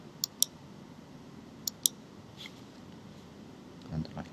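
Keyboard keypresses for a Ctrl+C copy while editing report data on a computer: two quick pairs of crisp clicks, faint and close, over a quiet room hiss with a soft low thump near the end.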